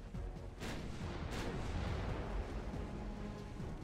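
Warship guns fire high-explosive shells in the naval game Ultimate Admiral Dreadnoughts. Two sharp, fairly faint booms sound in quick succession, then give way to a steady low rumble of distant battle.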